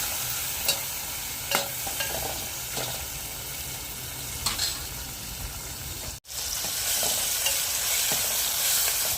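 Rasam being stirred in a pot after tomatoes, green chillies and pepper powder go in, a steady soft sizzling and scraping with a few sharper clinks and a brief cut near the end, no voices.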